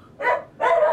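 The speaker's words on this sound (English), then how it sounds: "Do you hear the dog? That's my neighbor's dog." A neighbor's dog barks twice in quick succession, two sharp, fairly close barks a short gap apart, with no talking over them.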